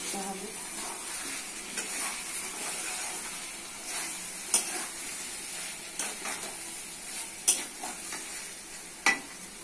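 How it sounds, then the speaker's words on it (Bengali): Meat and pre-fried potatoes stir-fried in a pan, a steady sizzle running throughout with scraping stirs and several sharp clinks of a spatula against the pan. "দিচ্ছি ভেজে রাখা আলু, আলু দিয়ে একটু কষতে হবে।"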